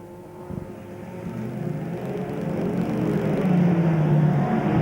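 F2 stock cars in a 1992 heat race at Crewe roar down the back straight, a dense engine drone that swells louder as the pack draws nearer, with no talk over it.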